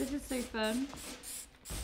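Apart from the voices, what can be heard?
spraying dye onto a tie-dye T-shirt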